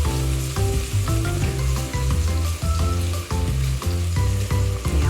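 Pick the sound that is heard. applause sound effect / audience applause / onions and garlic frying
onions and garlic frying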